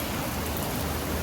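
Steady rain falls on a house rooftop in a continuous, even broadband hiss with no pauses, fairly close and loud, with no voices.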